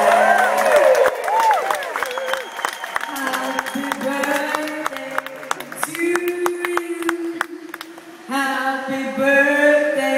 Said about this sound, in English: I want to hear a big round of applause for the one and only